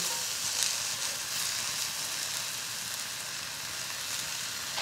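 Frozen mushrooms cooking in a pan, a steady close sizzle with a soft hiss that holds constant throughout, with no voices.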